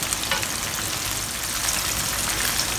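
Tofu deep-fries in hot oil at medium heat, giving off a steady, bright crackling sizzle with faint bubbling throughout, close up and with no talking.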